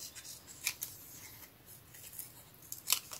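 Scissors snip through card-making paper in a few quiet, separate cuts with soft rustling between them, close and faint in a calm room.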